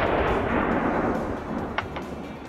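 Rifle firing a 5.45 7N6 round during ammunition testing: a single loud, close report at the start, followed by a booming tail that fades over a couple of seconds.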